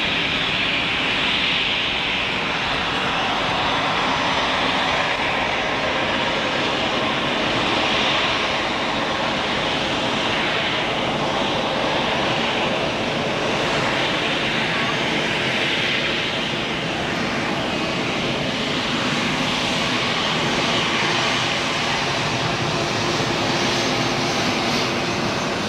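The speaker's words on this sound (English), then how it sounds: "let's enjoy this 767 departure" United Boeing 767 jet departing from the runway at Zurich Airport, a loud sustained engine roar that stays powerful and steady throughout, heard alone without voices.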